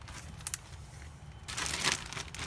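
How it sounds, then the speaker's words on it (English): A plastic bag holding used wound-bandaging materials is sealed, giving close crinkling and rustling with a louder burst of crackling toward the end, no voices. "We're going to seal this plastic bag up"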